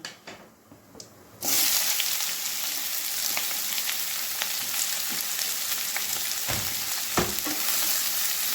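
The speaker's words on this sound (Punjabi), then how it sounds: "ਹੁਣ ਅਸੀਂ ਤੇਲ ਚ ਪਾਵਾਂਗੇ ਹਲਕਾ ਜਿਹਾ ਜੀਰਾ ਤੇ ਨਾਲ ਹੀ ਅਸੀਂ ਪਾ ਦਵਾਂਗੇ ਜੀ ਕੱਟੇ ਹੋਏ ਦੋ ਪਿਆਜ਼" Cumin and two finely chopped onions hit hot oil and start frying, setting off a sudden loud, steady sizzle that carries on close and even, with a few brief clinks of stirring over it.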